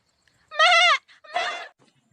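A goat bleats twice in close succession, the first call long and wavering, the second slightly shorter and softer, both clear and near against a quiet background.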